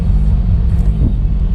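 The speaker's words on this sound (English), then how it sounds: "The V10 makes some very nice noise in sport mode." A 2016 Lamborghini Huracan Spyder's V10 engine in sport mode gives a steady, deep rumble that holds an even loudness throughout, close and continuous, with no voices.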